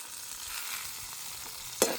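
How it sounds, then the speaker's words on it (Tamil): Curry leaves and pirandai frying in hot oil, a soft steady sizzle with a brief sharper spatter near the end, no talking. "எல்லாம் எண்ணெயில் பொரியும்."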